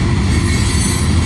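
A freight train with a distributed power unit rolls past close by, a loud steady rumble of wagons and wheels on the rails.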